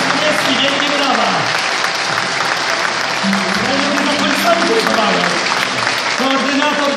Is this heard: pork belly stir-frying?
no